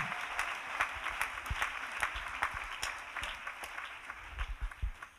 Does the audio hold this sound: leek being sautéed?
no